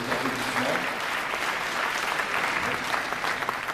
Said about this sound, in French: je vois qu'il y a des applaudissements